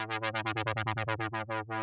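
Synthesizer sawtooth pad for a deep progressive house breakdown, with an LFO on the filter cutoff making the sustained chord pulse brightly in a quick, even rhythm of about eight swells per second, fairly quiet and alone.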